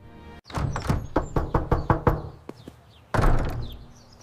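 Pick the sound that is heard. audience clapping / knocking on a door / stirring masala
knocking on a door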